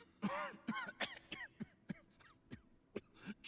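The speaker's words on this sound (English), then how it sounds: "That was a long-ass cough." A long, drawn-out cough from a character in Genshin Impact, a series of rasping bursts in an uneven rhythm, close and fairly quiet.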